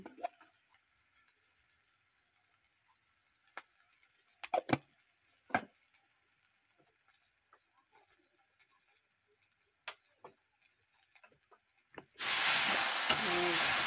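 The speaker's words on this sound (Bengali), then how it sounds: "ভালো মতো এটা মশলাটাকে কষাবো" Ground cumin, turmeric and salt are worked in a pan with a few quiet scattered clicks and taps of stirring. Near the end a sudden loud, steady sizzle erupts and holds.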